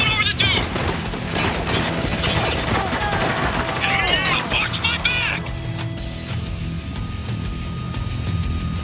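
Dense, sustained gunfire from Spec Ops: The Line rattles in rapid bursts, loud and continuous, with shouted voices over the shooting.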